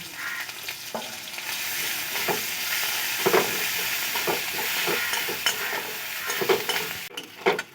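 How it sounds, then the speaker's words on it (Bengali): Ginger paste, whole cumin, dried red chillies and slit green chillies fry in hot oil in a pan, a continuous close sizzle with repeated scraping stirs of a spatula throughout. "আদা খুব ভালো করে ভেজে নিয়েছি"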